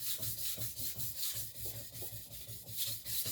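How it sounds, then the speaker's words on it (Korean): A knife blade scraped back and forth on a whetstone during sharpening, a steady rhythmic rubbing of repeated strokes close by, with someone speaking quietly over it. "칼은 이렇게 계속해서 저 가는 거 보시겠죠?"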